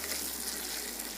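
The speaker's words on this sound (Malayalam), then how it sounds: "നമ്മുടെ പൊട്ടറ്റോയുടെ സ്ലൈസസ് നമ്മൾ ഇട്ട് കൊടുക്കണം. ഇനി ഫ്രൈ ആക്കി എടുക്കണം." Potato slices frying in hot oil, a dense continuous sizzle with a low hum beneath, fairly faint and steady with no voices.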